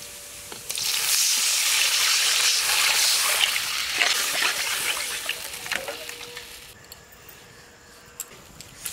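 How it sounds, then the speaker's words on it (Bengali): Water poured into a pan of fried mung dal sets off a loud, steady sizzle and hiss that fades and settles after several seconds, with no one speaking. "মুগ ডাল ভাজা হয়ে গেছে, এবারে জল ঢেলে দিচ্ছি।"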